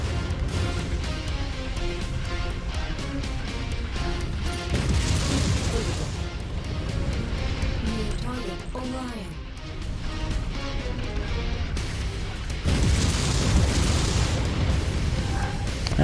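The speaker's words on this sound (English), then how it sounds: "Oh, we got a missile shooter." Battle in MechWarrior 5 with a missile shooter: heavy booming missile explosions and crashing impacts roll through a continuous noisy mix, bursting several times over about sixteen seconds.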